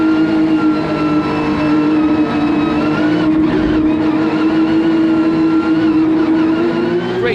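Porsche 992 GT3 race cars accelerate together at a race start at Indianapolis Motor Speedway, a steady loud engine drone from the pack with a rising pitch and constant roar throughout, no talk over it.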